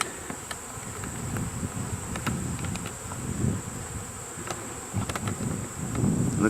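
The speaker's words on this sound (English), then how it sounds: "There's a huge pile of bees." A swarm of honey bees at a hive hums in a close, continuous buzzing drone, with individual bees whizzing past the microphone in short bursts over the steady swarm noise outdoors.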